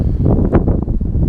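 Wind buffeting a microphone in an allotment garden, a steady low rumble with gusty surges throughout the short clip, loud and close, with no voice.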